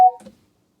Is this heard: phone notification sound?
yes